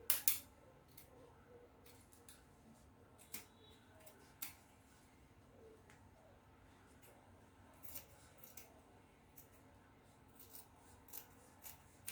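Scissors cut out a fabric piece for a bustier, giving quiet, sparse snips and clicks spread across a soft, hushed room background.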